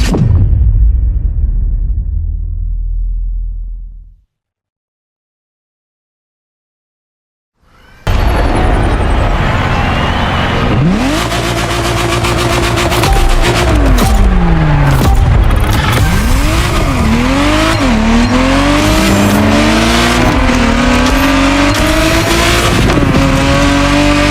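A Ferrari Testarossa engine in the racing game The Crew Motorfest: a low rumble fades into a few seconds of silence, then loud, sustained revving returns with repeated rising and falling gear-change sweeps and gritty tire noise.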